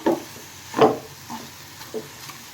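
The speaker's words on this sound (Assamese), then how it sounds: "এনেধৰণে আৰু ভাজি ল'ব লাগিব 2 পৰা 3 মিনিট" Dry grated coconut with sugar being stirred in a pan, giving a few soft scraping bursts of spatula movement over a faint low hiss, quiet and close, with no voices.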